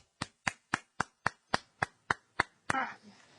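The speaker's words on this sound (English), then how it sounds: "I have to give you a round of applause" An adult claps nine distinct times at a steady, even pace, the claps loud and close, ending with a sharper final clap that rings briefly, at home while reading with a child.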